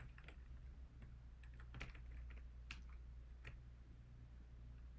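Steady clicking of fingers typing on a computer keyboard, close and clear over a low constant hum, with irregular bursts of keystrokes throughout.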